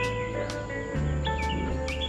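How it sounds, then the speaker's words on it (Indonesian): Many birds chirp and trill at 5 am near Loksado, with repeated short high calls layered over a dense, steady dawn chorus and a low hum. "Ini suara burung."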